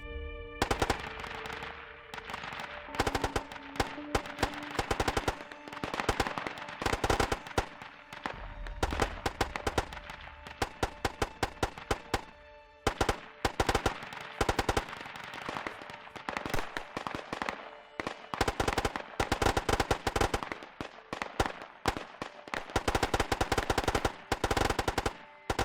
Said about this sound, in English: We've been adding new distance sounds to our gunfire.